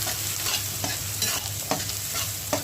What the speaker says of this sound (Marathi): तेल गरम झालं, कांदा टाकून देते